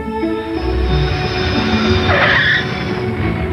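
A Jeep Cherokee with a high-output 4-liter engine and full-time four-wheel drive, heard as a steady loud vehicle roar with a brief squeal or swish partway through, close and without talk.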